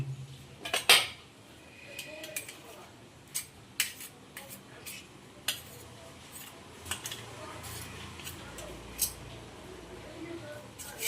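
A metal ladle clinks and scrapes against a pan while sandesh mixture cooks, with sharp irregular clinks, one louder cluster near the start, then scattered softer taps, close by over a low background hum.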